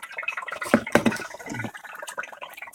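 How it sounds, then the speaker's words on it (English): Mineral oil circulating through a submerged PC build, bubbling and trickling with irregular liquid gurgles and drips, fairly close and moderately loud, no voices. "Yeah, it is making some bubbles"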